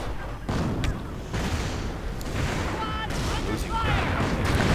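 Artillery strikes rumble and boom in a real-time strategy battle as shells hit a Sherman tank, a dense continuous barrage of blasts with a few whistling shell sounds over it.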